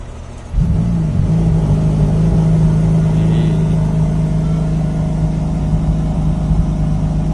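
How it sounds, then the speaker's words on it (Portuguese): A brand-new Ferrari F8 Tributo, a 720-horsepower car, starts up after a moment of quiet with a sharp rev, then settles into a loud, steady, deep engine idle close by. "vamos ligar esse carro, botar ali pra frente e conseguir manobrar isso"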